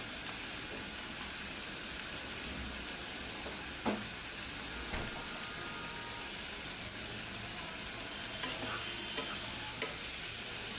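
Prawns frying in a pan of oil, a steady bright sizzle with occasional scrapes and knocks of a spatula stirring them, close, continuous and without voices.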